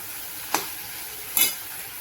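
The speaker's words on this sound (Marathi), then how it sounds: "हे बघा हिला छान अशी परतून घेते आता तेलामध्ये।" Okra sautés in hot oil with a soft continuous sizzle, interrupted by two sharp utensil clinks or stirs against the pan, close and with no talking.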